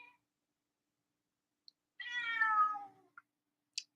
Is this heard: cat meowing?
yes